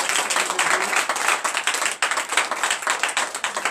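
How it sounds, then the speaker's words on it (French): A church congregation claps and applauds continuously at a Sunday service in Benin, a dense, even patter of many hands filling a large room. "Donnez encore plus d'acclamation."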